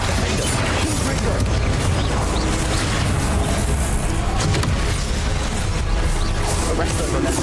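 A Confringo explosion spell goes off in Hogwarts Legacy amid a dense, loud, continuous wash of combat noise with bangs and mechanical clatter throughout.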